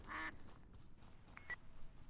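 Cartoonish duck quacks from a multiplayer video game, a short bright burst at the start and another brief quack later, heard over a steady game background.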